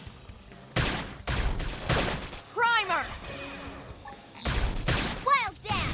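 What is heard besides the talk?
gunfire in video game Xenoblade Chronicles X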